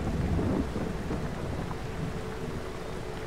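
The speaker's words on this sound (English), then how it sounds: "just light rain" Rain and thunder in the farming video game Farming Simulator 22, a loud, steady wash of rainfall over a deep rumble of thunder that swells at the start and then holds constant.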